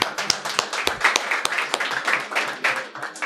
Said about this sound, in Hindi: मोहित भाई जोरदार तालियां।